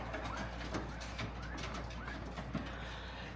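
Backyard pigeons or doves coo in a soft, repeated rhythm close by, layered over steady outdoor background noise with a few brief murmurs of movement.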